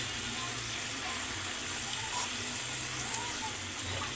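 Salted hilsa fish pieces going into a hot pan, giving a steady broad sizzle that holds evenly throughout, close and moderately loud with no voices over it.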